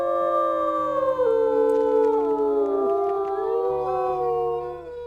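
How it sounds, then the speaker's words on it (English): Wolves in the video game WolfQuest give a double howl, several long overlapping wavering tones that rise and slide down together, loud and sustained over a low steady background drone. "We'll do a double howl."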